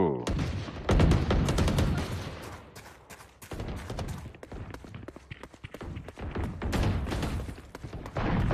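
Rapid bursts of gunfire from a Valorant match crackle almost continuously in loud volleys, with voices mixed in among the shots.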